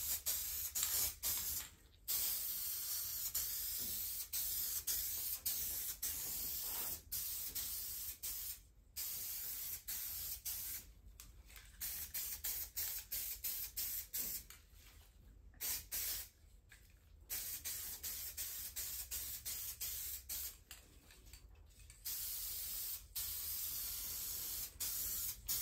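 Aerosol can of SEM Landau black vinyl paint spraying up close on a Foxbody Mustang interior, long steady loud hissing bursts with several short pauses, no talking.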